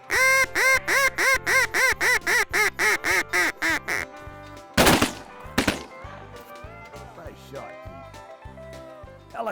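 Duck calls quack in a steady, loud run of about a dozen rhythmic notes during a Kansas duck hunt, followed by two sharp gunshots and scattered quacking and calls with voices.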